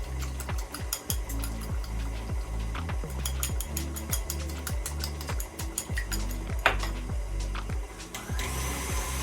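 Eggs are beaten into cinnamon roll batter in a bowl, giving a loud, rhythmic mechanical whirring with regular clicking pulses that repeat steadily throughout.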